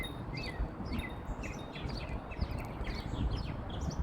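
Several birds chirp and tweet repeatedly against a soft, steady outdoor hiss; the chimes are not clearly distinguishable.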